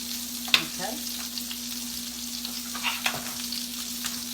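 Sausages sizzling in a frying pan on a home kitchen stove, a steady close hiss of frying fat with a constant low hum beneath and occasional pops and light scrapes, no voices.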